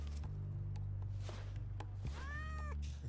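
A cat in the game Goat Simulator gives one drawn-out, wavering meow near the end, over a steady low hum and faint scattered clicks and footsteps, with no speech.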